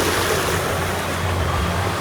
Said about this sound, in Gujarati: ત્યાંથી એમનું પાણી નીકળે છે બતાવું તમને